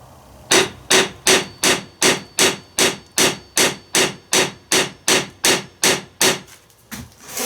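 A small hammer strikes the metal steering box of a Ford 800 tractor about fifteen times in a steady, even rhythm, each blow sharp and close, then the tapping stops.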